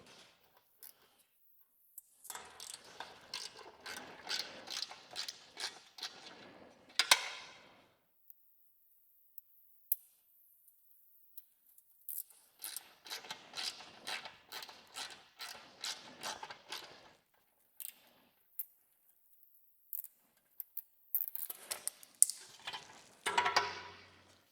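A ratchet wrench undoing bolts on Ducati Desert X factory crash protection, giving bursts of rapid clicking separated by quiet pauses, close and fairly crisp.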